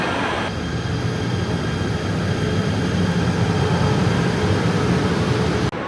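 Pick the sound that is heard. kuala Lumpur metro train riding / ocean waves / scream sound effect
kuala Lumpur metro train riding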